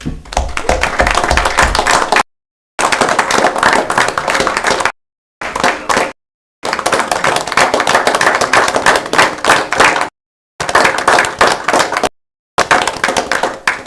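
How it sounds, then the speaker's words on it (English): Applause at a city council meeting, loud and dense bursts of clapping from the room, broken by several abrupt silent gaps between stretches. "they deserve a round of applause for that"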